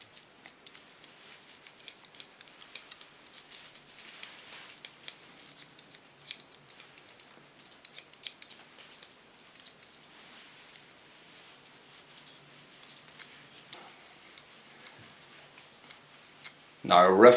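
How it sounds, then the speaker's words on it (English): Scissors slice-cutting hair for a short pixie haircut, a steady run of light, crisp snipping and sliding clicks close by, quiet and continuous with no loud breaks. "And I love slicing. Gives so much more character to the hairstyle."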